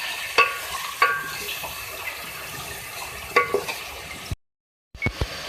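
Spice paste frying in a pot for beef handi karahi, with sharp stirring clatters and scrapes over a steady sizzle. There is a brief silent gap near the end, then more stirring.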